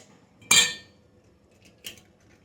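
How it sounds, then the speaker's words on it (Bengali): Whole eggs cracked against a bowl rim into flour for homemade mini cake batter, one sharp clink followed by a second fainter tap about a second later, close and otherwise quiet. "আমি ডিমের কোনো হলুদ অংশ বা কিছু বাদ দেব না, পুরো ডিমটাই ফাটিয়ে দিয়ে দিলাম।"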